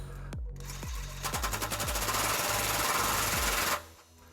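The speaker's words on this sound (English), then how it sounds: "This is a 22mm socket, and we're going to tighten this while we're pulling outward on the pry bar." A 22mm socket on a ratchet or impact driver tightening a bolt while installing a U-Haul trailer hitch on a 2005 Lexus LX470: a few separate clicks, then a loud rapid hammering burst that runs for about two seconds and stops abruptly.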